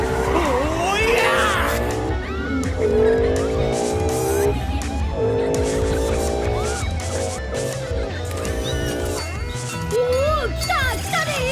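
A car engine in an animated show revs loudly in repeated rising and falling sweeps, close and continuous, with voices and other race sounds mixed in.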